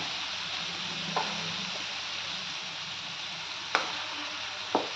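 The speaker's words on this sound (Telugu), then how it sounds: "ఊరికే వేగిపోతాయండి తెల్ల వంకాయలు, ఎక్కువసేపు కూడా పట్టదు, ఊరికేనే మెత్తగా మంచిగా వేగిపోతాయి, ఎక్కువ నూనె పట్టదు" Stuffed white brinjals sizzle steadily in hot oil in a pan, a constant close hiss broken by a few sharp clinks as they are turned.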